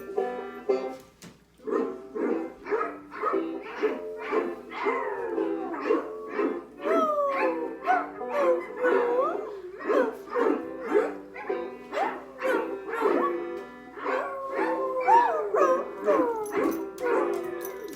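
Dogs howl and yip in drawn-out, wavering tones over an alphabet song in a school setting, the canine voices rising and sliding continuously and loudly throughout.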